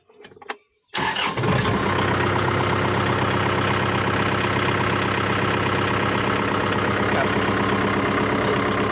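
A wheel loader's engine catches after a few faint clicks, then roars loud and close, holding a steady, heavy running drone to the end.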